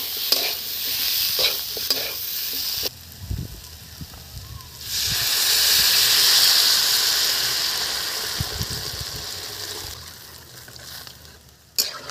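Pieces of taro are stirred into cooked spice paste for a silver biddy fish curry, frying with a loud, steady sizzle and scraping stirs, close up, the hiss swelling midway then easing.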